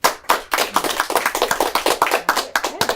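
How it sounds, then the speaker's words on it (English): Audience applause at a high school poetry slam, close, dense hand clapping that starts abruptly and continues steadily with uneven rhythm, fairly loud. "One more round of applause for David."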